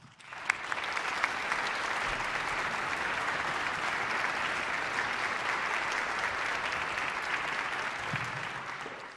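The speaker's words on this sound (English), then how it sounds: "Let's give him a warm applause" Sustained applause from a concert audience after an orchestral piece is introduced, a steady dense wash of many hands clapping at even loudness for the whole stretch before fading slightly at the end.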